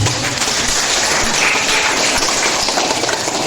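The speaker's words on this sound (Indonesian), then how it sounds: "Ayo kita tepuk tangan." A church congregation at a Palm Sunday Mass claps together, a steady dense wash of many hands filling the space evenly without pause, fairly loud and close.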